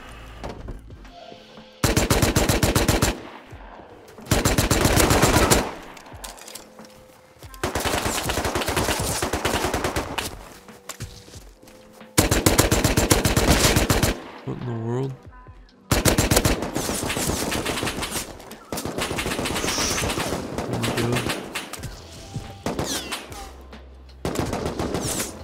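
Video game gunfire in Rust comes in several long, loud bursts of rapid automatic fire separated by short pauses, close and dominant, with scattered single shots between the bursts.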